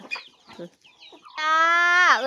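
Chickens feeding on rice alongside ducks, giving a few short, close clucks followed by a longer, drawn-out call that rises and falls at the end.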